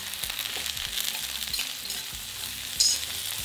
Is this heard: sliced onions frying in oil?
yes